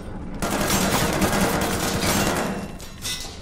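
Sustained automatic gunfire in the Call of Duty Vanguard video game, a loud, dense, rattling barrage that erupts after a brief pause and keeps going with little let-up.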